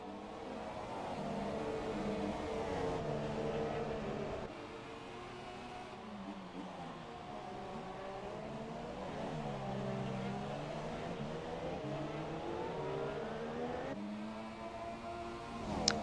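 Race cars in an F1 video game at the Austin, Texas circuit whine through engine revs in a continuous, layered drone, pitch sweeping up and down with gear changes, steady and moderately loud without voices.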